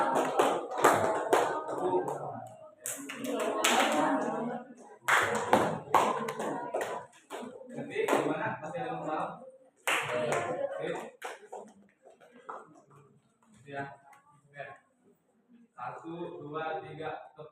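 A class of students claps hands in several separate bursts of sharp, overlapping claps, spread between stretches of a teacher talking, loud and close in the room.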